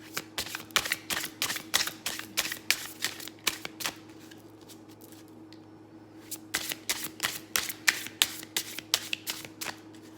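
A Crow Tarot card deck being shuffled, with repeated quick riffling bursts that pause briefly mid-way and then resume, heard close up in a quiet room.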